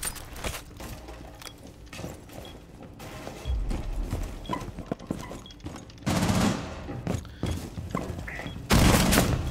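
Gunfire in the tactical shooter Rainbow Six Siege, with bursts of automatic fire and single shots, thuds and mechanical clatter, growing louder toward the end, with occasional faint voices underneath.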